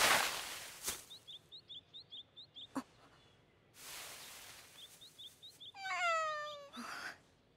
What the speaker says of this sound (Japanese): なんだ、猫か。